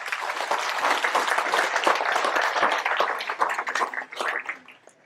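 A room full of residents at a community meeting gives a round of applause, sustained dense clapping with a few louder close claps, tapering off unevenly near the end.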